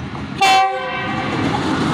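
The 8 Down Tezgam express passing Raiwind railway station gives one short, loud horn blast over the continuous rumble and clatter of the moving train.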